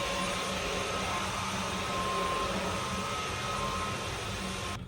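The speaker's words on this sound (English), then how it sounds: "So I'm gonna try and vacuum some of this off." A Dyson vacuum cleaner runs steadily up close as it sucks up dust, a continuous broadband whir with a faint high whine that holds constant and cuts off at the very end.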